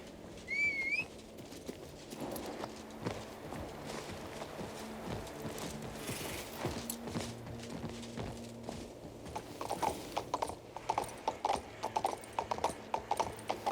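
Horse hooves in the video game King's Bounty II clip-clop at a steady walking pace, crisp and close, with a brief bird call early and a soft ambient backdrop.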